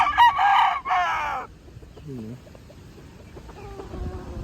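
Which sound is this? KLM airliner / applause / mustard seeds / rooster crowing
rooster crowing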